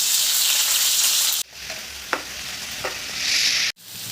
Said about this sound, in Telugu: ఇలా కొంచెం ఫ్రై అయ్యాక దొండకాయలను వేసుకోండి.